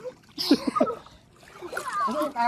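Splashing and sloshing water as a person swims at Masada Village, bursts of splatter around people talking and calling out encouragement nearby.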